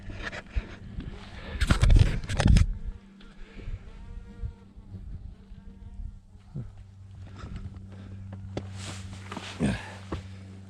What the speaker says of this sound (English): A lot of bugs up here.